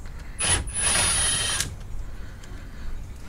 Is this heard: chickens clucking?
no